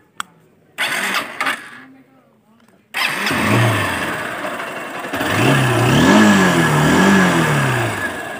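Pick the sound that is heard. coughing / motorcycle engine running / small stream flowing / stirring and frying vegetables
motorcycle engine running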